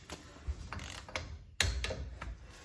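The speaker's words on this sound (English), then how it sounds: "now we got the torque wrench hooked up, and while spinning the hub, tighten it down to 50 foot-pounds." A torque wrench ratchets in short clicking bursts while tightening the hub nut on a full-float 14-bolt rear drum brake of a Squarebody truck, with a sharper metallic click midway and quieter mechanical rattles around it.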